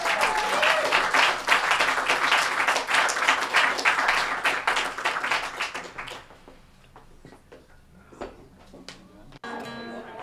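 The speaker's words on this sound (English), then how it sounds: "Clap for Lauren one more time." An audience at a living room music session claps loudly for several seconds. The applause then fades to scattered claps and quiet room noise.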